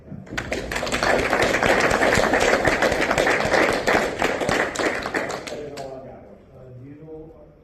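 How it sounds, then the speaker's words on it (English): A Freemason lodge meeting audience breaks into a round of applause, dense steady clapping from many hands for several seconds that cuts off abruptly, followed by a brief voice. "So I think he deserves a round of applause"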